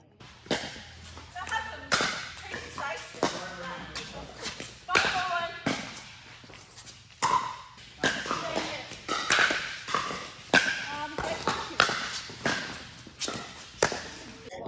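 Pickleball paddles strike the ball during a rally on a court, sharp hollow pops coming irregularly every second or so, mixed with shuffling footsteps and occasional talk.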